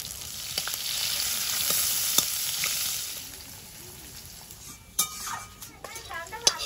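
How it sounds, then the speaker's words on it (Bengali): Nigella seeds, bay leaf, green chilli and chopped onion hit hot oil in a kadai, giving a steady close sizzle that fades, followed by a few sharp clinks of a utensil against the pan. "কড়াইতে তেল দিয়ে দেবো, কালো জিরে, তেজপাতা, কাঁচা লঙ্কা, পেঁয়াজ কুচি"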